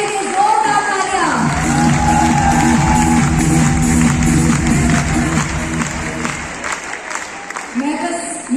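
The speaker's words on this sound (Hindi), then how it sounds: "तो आप सबके लिए, जो भी आप बैठे यहाँ पे, सबके लिए जोरदार तालियां।" A large audience in a packed Delhi stadium at a celebration event bursts into sustained applause and cheering, loud and continuous for several seconds, with a voice over a sound system heard briefly at the start and end.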